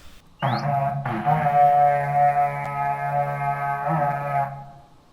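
A single long, buzzy, distorted trumpet-like blast from Minecraft swells in, holds steadily for several seconds, then fades away.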